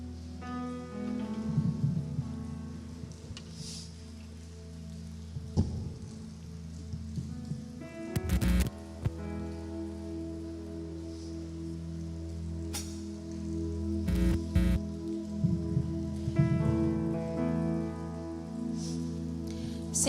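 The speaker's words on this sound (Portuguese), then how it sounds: "pela chuva que cai sobre a terra" Rain falls steadily outdoors, a continuous patter of drops with occasional sharper knocks and rustles, heard up close over a low hum with no talking.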